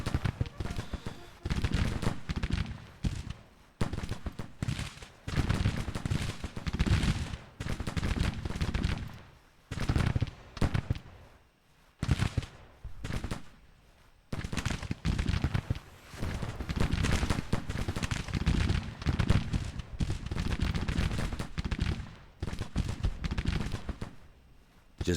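Rifle volleys crackle almost without pause through a Civil War video game battle, dense overlapping shots swelling and thinning over heavy, close-sounding gunfire.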